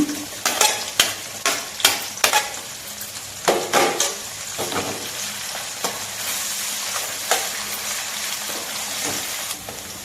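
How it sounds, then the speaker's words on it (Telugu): Capsicum pieces frying in a pan for egg fried rice, loud sizzling with a run of sharp spoon scrapes and clacks early that ease into gentler stirring, close up, no voices. "అలాగే క్యాప్సికం ముక్కలు కూడా వేసేద్దాము"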